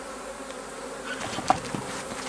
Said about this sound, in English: a bee just got in my veil